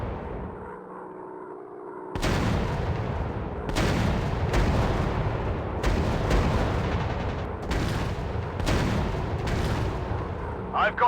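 Rocket launches and explosions in the Warplanes: WW2 Dogfight video game, a string of sharp booming bursts following a quieter start, with game voice lines heard between blasts.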